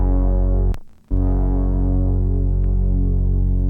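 A thick, buzzing Reese synth bass in a liquid drum and bass production drones steadily with a gritty, distorted edge, cutting out abruptly for a split second before resuming at full level.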